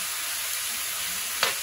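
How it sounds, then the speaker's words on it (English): Thin-sliced steak with garlic frying in a hot pan, a dense, steady sizzle heard close up, with a brief louder crackle near the end. "Let that fry just a little. This is going to take very little time to cook, because the meat is really thin."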